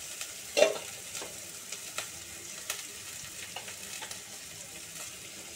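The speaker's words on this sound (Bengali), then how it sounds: "পেঁয়াজটা সিম করে করে ভাজবো, নাহলে পুড়ে যাবে" Onions frying gently in oil on low heat for a loitta fish curry with green chillies make a soft, continuous sizzle, punctuated by several spatula scrapes and stirring knocks, the first one loudest.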